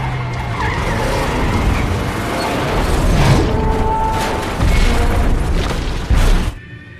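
A truck roars and skids with harsh, sustained noise, ending in a heavy impact bang as it hits a road barrier before abruptly cutting off.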